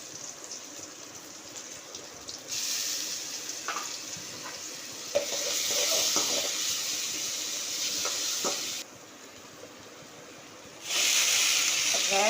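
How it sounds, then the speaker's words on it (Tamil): Chopped onions sauté in a hot pan with a loud, continuous sizzle, broken by scraping stirs and sudden jumps in intensity as the frying flares and settles. "நம்ம அரிஞ்சு வச்சுருக்க வெங்காயம், நல்லா வதக்கணும்."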